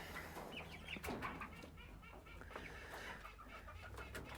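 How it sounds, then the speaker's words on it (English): Roosters and chickens on a farm cluck and chatter faintly in a quiet coop, soft scattered calls with a little wing rustling. "You can see that's a rooster right there"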